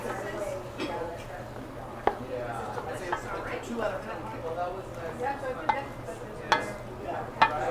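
Brown stew chicken ingredients with thyme being mixed in a pot, soft scraping and occasional sharp clinks of a utensil against the pot, heard close under a person talking.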